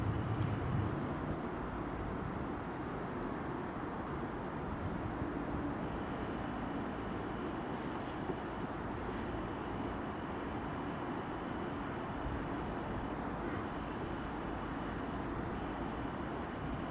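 An EasyJet airliner at Edinburgh Airport, heard as a steady, distant jet roar that holds evenly for the whole stretch, with no voices over it.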